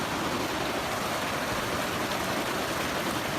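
A river rushes beside a hiking trail in the Sierra on the Pacific Crest Trail, a steady, full broadband wash of flowing water with no breaks and no voices.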